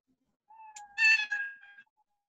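A cartoon cat sprite in a Scratch program gives one short synthetic meow, clear and close, with nothing else around it.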